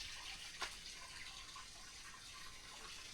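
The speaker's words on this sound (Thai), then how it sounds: "มีน้ำไหลทุกคนนี่ น้ำนี่ไหลตลอดแรงตลอด" Steady rushing water flowing continuously at moderate distance, a constant broad wash with no voices.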